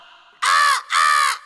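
A person imitates a crow, giving two loud, harsh caws in quick succession, close up.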